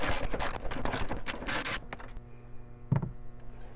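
Ratchet work on a seat bolt in a 2017 Land Rover Evoque cabin: a dense burst of clicking mechanical ratcheting for under two seconds, then quieter hum with one sharp metallic knock near the end.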